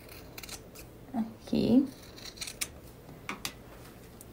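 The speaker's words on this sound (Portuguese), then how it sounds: "Vou refilar essa quina e aqui eu vou diminuir um pouquinho esse excesso." Fabric scissors snip the excess cloth at a sewn corner of a handmade fabric case, several short crisp cuts spaced out, close and fairly quiet, with someone briefly speaking.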